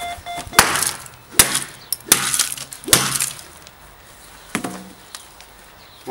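A Telstra V850a phone set is smashed: about six sharp, loud cracking impacts with plastic breaking and small clinking parts, spaced irregularly and close up, with no talk.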